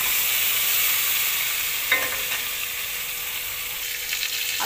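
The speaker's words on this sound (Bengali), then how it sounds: "তো চলো এবার আলুটা দেখতে পাচ্ছ অনেকটা ভাজা হয়ে গেছে।" Potatoes frying in a pan make a steady close sizzle, with a couple of short scraping stirs and light clinks in the second half.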